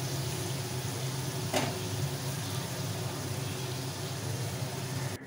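Banana stem stir-fried with black cumin gives a constant close sizzle and hiss from the pan, with one brief scrape of stirring partway through.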